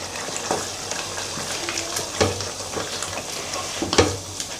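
A spoon stirs dosakaya tomato curry in a pan, scraping a few times over a soft, continuous simmering sizzle, close up with no voices.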